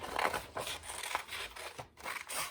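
Scissors snip and rasp through paper weaving pieces in a quiet room, with repeated close cutting strokes and light rubbing sounds in between.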